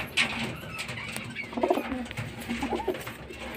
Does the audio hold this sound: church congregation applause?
no